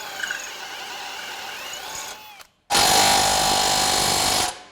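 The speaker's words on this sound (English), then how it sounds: "We got 2 more holes to drill on each side" A power drill bores holes through a Ford F-100 truck frame during a front suspension install, whirring loudly and steadily after a faint start and a brief pause, then stopping abruptly.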